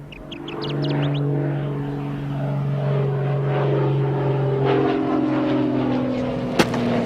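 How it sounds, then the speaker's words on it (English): Propeller airplane approaching to land, a steady droning engine hum that swells gradually and holds loud and fairly close, with a brief sharp knock near the end. "See that airplane? It's coming in here to pick up Burkett."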